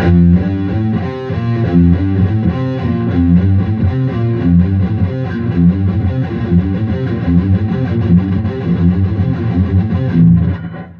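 A distorted electric guitar picks a quick repeating five-note scale pattern played 1, 2, 3, 5, 4, steady and evenly paced, with no voices.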